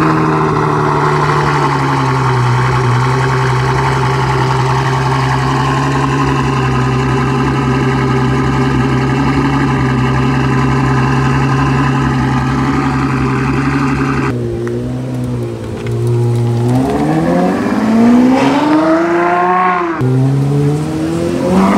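Ferrari 812 Superfast V12 supercar idling loud and close with a deep steady drone, then blipping into rising revs and a couple of throttle swells near the end, no talk.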